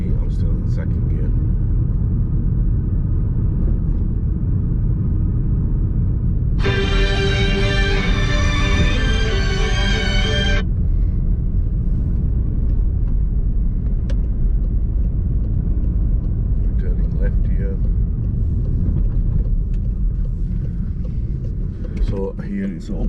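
Car climbing a hill in second gear, its engine rumbling steadily and close throughout, with a brief bright tonal burst standing out a third of the way in.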